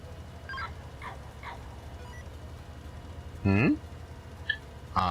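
Dogs scuffling underfoot indoors, with faint whimpers and yips, one louder whining yelp, and a low continuous background hum.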